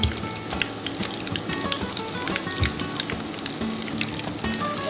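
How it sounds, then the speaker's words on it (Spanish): Battered fish frying in hot oil for fish tacos, a steady dense sizzle with crackling pops throughout, fairly close and continuous with no voices over it. "she's just adding batter to the fish and she's just putting it to fry"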